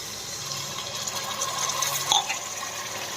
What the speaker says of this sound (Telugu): ఇందులో మనం వాటర్ యాడ్ చేద్దాం పది గ్లాసులు వాటర్ తీసుకోండి